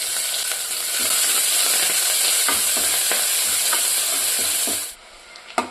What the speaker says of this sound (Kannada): ಇದು ಫ್ರೈ ಆಗೈತೆ, ಈರುಳ್ಳಿ ಬೆಳ್ಳುಳ್ಳಿ ಎಲ್ಲ.